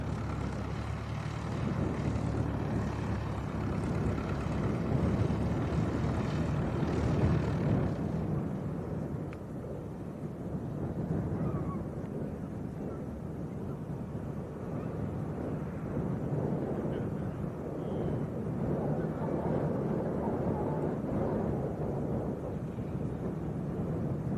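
A light aircraft taxis onto the runway at Leeds East Airport, its engine a steady broad rumble mixed with gusting wind buffeting the microphone, loud and continuous throughout.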